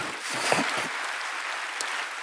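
A church congregation claps in praise to God during a sermon, a short, even burst of applause lasting a couple of seconds, with a faint voice at the start.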